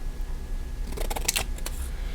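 A few quick, crisp snipping sounds from scissors cutting stickers, close by, in an otherwise quiet room.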